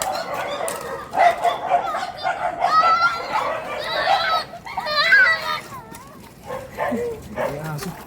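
Many dogs bark in bursts, close and fairly loud, mixed with the chatter of children and the clucking of nearby chickens.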